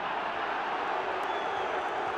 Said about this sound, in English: Crowd not best pleased about that